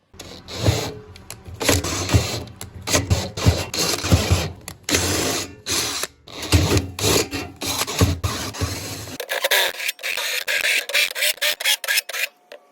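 A power drill works on factory engine bolts held on a workbench before powder coating, giving a loud, uneven whirring and grinding in repeated bursts with short pauses, ending in a thinner, higher-pitched buzzing.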